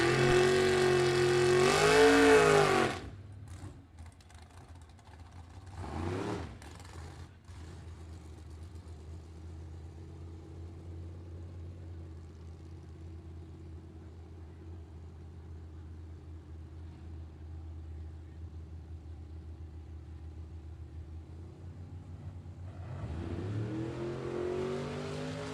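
A vintage Anglia drag race car makes a solo pass on a night-lit strip, its engine roaring in a long, loud, sustained run at a distance that later rises again near the end.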